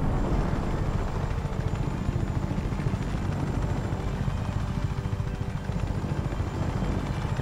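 Helicopter rotor and engine drone in the game Just Cause 3, a steady loud whir that holds throughout with no breaks, heard alone.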